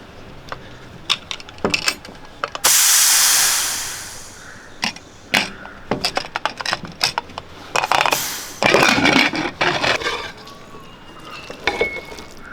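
Two loud bursts of rushing steam hiss from a pressure cooker releasing pressure, the first sustained for over a second, surrounded by sharp metallic clicks and clatter.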